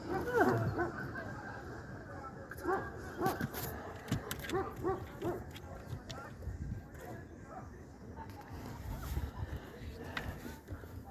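A dog barks and yips intermittently at a moderate distance, with people talking nearby and some background rustling.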